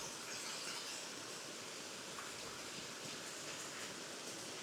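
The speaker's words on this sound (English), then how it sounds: "just fall asleep to the sweet sound of the creek." A creek flows beside a rainy Montana campsite near Cedar Creek at midnight. It gives a soft, steady, distant rush with no pauses and no voices.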